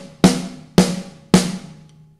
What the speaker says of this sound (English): we're going to start off by playing four notes on our snare drum